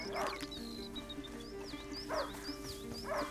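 A hunting dog in the video game A Plague Tale: Innocence barks three times, short distinct woofs spaced about a second apart over a quiet ambient game background with faint whistling tones.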